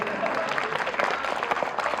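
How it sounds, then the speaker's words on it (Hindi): Audience applause at a Republic Day 2024 program at an Ayurvedic medical college in Gogunda: dense, steady clapping from a crowd that fills the whole moment, with a few voices mixed faintly into it. "एक बार जोरदार ताली हो जाए फिर"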